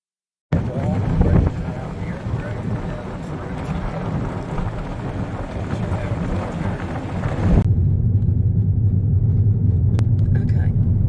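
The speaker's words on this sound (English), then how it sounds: "We're driving about 5 or 6 miles down Old State Road 85" A car travels down Old State Road 85 with a steady low rumble of engine and tyres from inside the cabin, which shifts to a smoother, quieter drone partway through.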